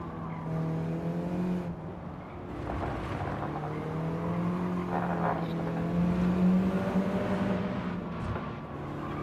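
A Mitsubishi Lancer engine revs in Gran Turismo 7, a continuous car engine tone that rises and falls through gear changes. It is steady and moderately loud, with occasional tire noise and no talking.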